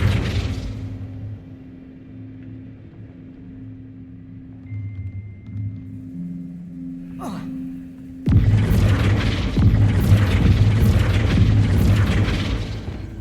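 A Flipendo spell is cast in the Hogwarts Legacy video game. After a stretch of soft humming game score, a sudden loud, rumbling burst erupts and keeps roaring to the end.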